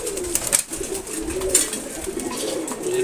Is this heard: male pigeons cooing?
yes